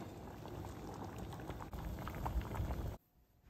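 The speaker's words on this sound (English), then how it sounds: "Boil your veggies until tender and peelable." Potatoes, carrots and beets boil hard in a pot, a steady rolling bubble and gurgle that runs close and even before cutting off abruptly near the end.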